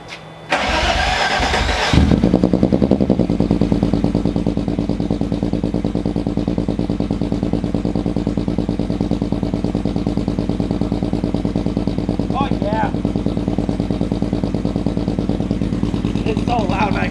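A car engine cranks briefly, catches and settles into a loud, steady, rumbling idle that continues without a break, heard close.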